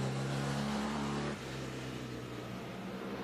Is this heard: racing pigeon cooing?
no